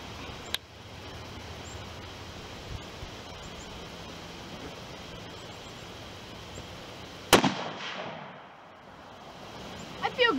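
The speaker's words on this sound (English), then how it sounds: "Alright, we are now shooting." Rifle shots during target shooting outdoors: a faint crack early on, then one loud, sharp report a few seconds later, with quiet wind and rustle between and after.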